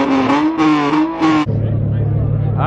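An orange Ford GT500 revs past nearby, its engine note climbing through rising pitch steps before dropping to a lower, steady throbbing rumble; voices are audible over it.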